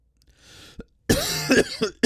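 A single sharp cough bursts out after a short murmur, followed by two or three rougher throaty coughs in quick succession, close and loud, from a man feeling under the weather.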